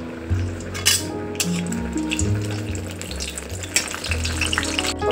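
Bay leaves hit hot oil in a kadai and crackle with a lively sizzle, punctuated by metallic clinks and scraping stirs of a utensil against the pan, close and continuous.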